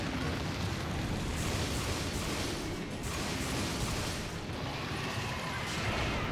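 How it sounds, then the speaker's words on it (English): Monster's large detonation explosion in Monster Hunter Generations Ultimate, a loud, dense, sustained roaring blast with rumbling that fills the whole span and swells in waves. "That's the thing about that detonation, is it covers a very big area."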